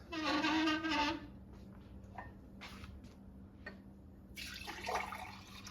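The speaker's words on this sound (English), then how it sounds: "I'll pour it into a glass" Celery juice pours into a glass in a brief, splashing stream, then quieter clinks and small handling sounds follow against a low steady hum.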